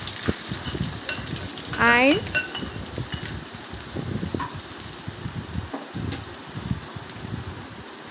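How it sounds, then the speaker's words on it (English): Chopped onions and smashed garlic fry in oil in a kadai with a steady, close sizzle, broken by scraping stirs and a brief squeaky scrape of the spoon against the pan. "We have to fry it 2 to 3 minutes."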